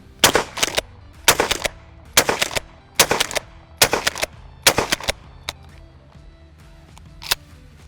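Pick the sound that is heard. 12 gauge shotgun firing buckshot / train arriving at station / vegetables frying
12 gauge shotgun firing buckshot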